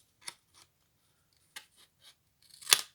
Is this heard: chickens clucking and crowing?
no